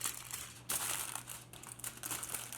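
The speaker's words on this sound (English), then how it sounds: "I'm gonna take this and I'm gonna try and press that foil" Aluminum foil pressed and crinkled onto textured objects: continuous close crackling and rustling, soft but steady, with a sharper burst partway through and no voices.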